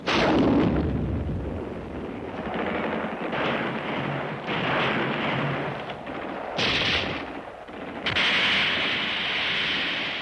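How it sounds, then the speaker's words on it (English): Explosions and heavy gunfire from WWII Pacific combat, where grenades blast enemy soldiers out of caves, roar loudly and densely throughout, with bursts and sharp booms piling over a continuous, rumbling din. "They must be blown out of their caves by grenades."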